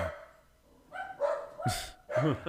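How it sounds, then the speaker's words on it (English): Guard dogs give several loud, close barks in quick uneven bursts, with people talking in the background. "Guard dogs."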